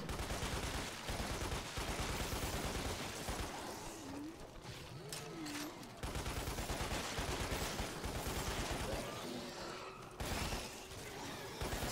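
Gunfire in the video game Lost Planet, during an assault on a pirate base: loud, rapid bursts of shots and shattering impacts, repeated in clusters with brief pauses between volleys.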